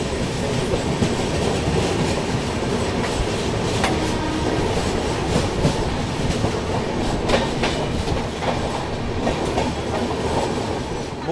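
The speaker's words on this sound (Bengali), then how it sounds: "এটা হচ্ছে হাওড়া থেকে পুনেগামী আজাদহিন্দ এক্সপ্রেস।" The Azad Hind Express from Howrah to Pune rumbles past, with loud, steady wheel clatter and rail noise throughout.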